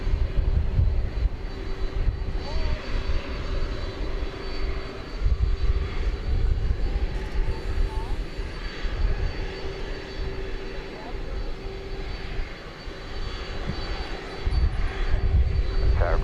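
American Airlines flight 2390 takes off from runway 18 left at Dallas Fort Worth Airport, a steady broad jet roar rumbling throughout at moderate distance, with voices talking over it.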